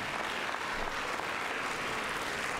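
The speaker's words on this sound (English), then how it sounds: "Can you give them another round of applause?" Audience applause at the 2024 NCSEF junior science fair awards ceremony is a dense, continuous clapping from a large crowd that stays at an even level from start to finish.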